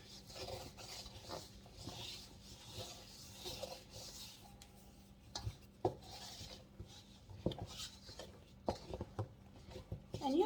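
Flour being mixed into cinnamon roll dough in a bowl, quiet scraping and thumping strokes at an uneven rhythm, close but faint, with occasional soft clinks.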